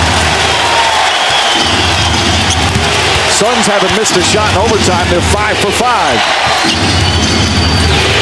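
Crowd noise fills an NBA arena during overtime of Game 1 between the Suns and Spurs, a sustained loud roar under fast excited play-by-play commentary, with basketball bounces and squeaking shoes mixed in.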